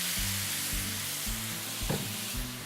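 Continuous bright sizzle of soy sauce hitting a hot pan, loud and close, with soft stirring scrapes under a steady hiss of frying; faint background music runs beneath it.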